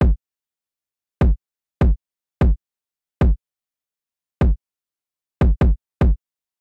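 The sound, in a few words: simple UK drill kick drum pattern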